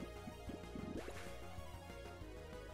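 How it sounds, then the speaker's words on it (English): Bubbling water sound effect from the Pokemon Uranium video game, a series of quick rising blips and drips over steady background music with no talking. "Sounds like bubbles."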